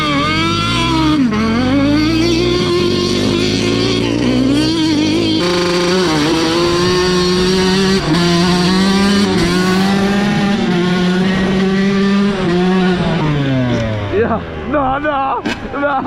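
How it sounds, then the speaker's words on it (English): A street motorcycle at a dirt bike resort revs hard and loud up close, its engine note climbing and falling through gear changes in a harsh, crackling roar that fades near the end. "Buddy got the street motorcycle."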